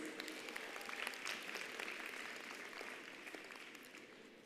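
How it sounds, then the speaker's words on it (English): At a university spring graduation ceremony, a large audience gives a round of applause, with a continuous wash of clapping that is distant and faint and slowly fades. "Can we give her another big round of applause?"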